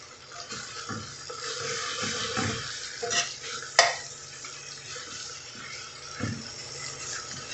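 Sliced calabresa sausage sizzles in a small pan with a thread of oil, a steady frying hiss broken by scrapes and clinks of a utensil stirring and turning the pieces.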